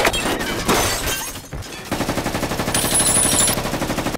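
Heavy gunfire opens up on a friend's car, rapid bursts mixed with shattering glass and impacts, then a steady, pulsing barrage of automatic shots close and loud.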